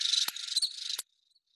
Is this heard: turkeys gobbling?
no